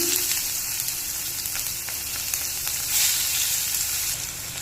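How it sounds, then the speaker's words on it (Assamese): Panch phoron and onion sizzle steadily in oil left from frying fish. The hiss is loud, dense and close, with no pauses, and it swells slightly toward the end. "মাছ ভজা তেলতে মই 5 ফোৰণ কেইটামান দি দিছোঁ। পিঁয়াজ দি দিম"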